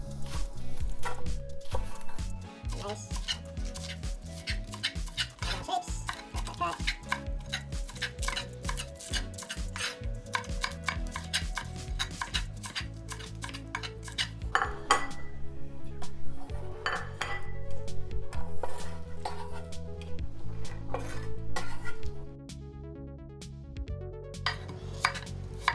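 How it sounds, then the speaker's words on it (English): A knife slices green onions on a board while beef chow fun is prepared: a long run of dense, rapid, clicking cuts, close and busy, with clinking kitchen sounds mixed in. "We're going to take off all the ends, and what we're going to do is we're just going to slice these up."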